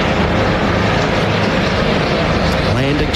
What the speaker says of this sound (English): Helicopter arriving at the hospital.